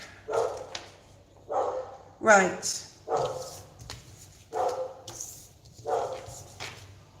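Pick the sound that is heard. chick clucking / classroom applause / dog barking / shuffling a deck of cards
dog barking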